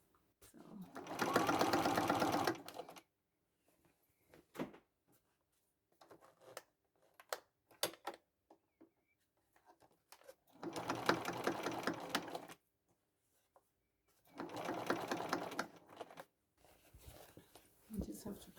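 A sewing machine stitches a red velvet tote bag in three separate bursts of rapid whirring, with quiet handling clicks and rustles between runs.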